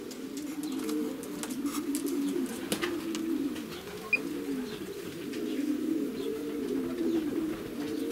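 Low, continuous cooing from racing pigeons in the loft, steady and moderately quiet throughout, with a few faint chirps and soft clicks on top.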